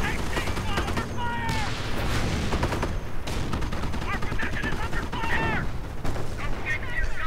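Heavy gunfire and anti-tank fire rattle through a video game battle in bursts of automatic shots, machine-gun fire and rolling fusillades with booming hits, a nearly continuous barrage throughout.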